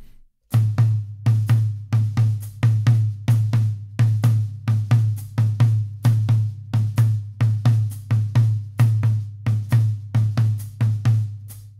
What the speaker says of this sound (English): our 3-16 on the rack tom is going to sound like this.